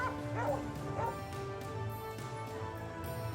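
Hunting dogs on a wild hog hunt bark and yip in a few quick, moderately loud bursts over steady background noise, with no talking.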